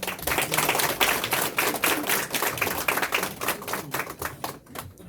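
Audience clapping at a Korean candidate's press conference announcing a run for the National Assembly, brisk, rapid hand claps close and fairly loud, tapering off near the end.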